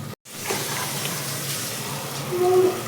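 Water is poured into a pot for cooking rice, a steady gushing splash after a brief silence, close and moderately loud, growing slightly toward the end.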